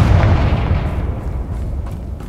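A loud, deep explosion booms from the Confringo spell in the Hogwarts Legacy video game, then a low rumble slowly fades over about two seconds.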